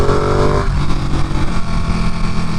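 Ducati Panigale 959 motorcycle engine running steadily at close range while riding, with a loud, even drone and a slight shift in tone partway through, with no voices.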